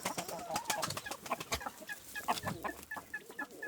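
Chickens, including a young Indian rooster, cluck and murmur in a busy backyard, with short repeated calls and faint higher chirps scattered throughout at a moderate distance.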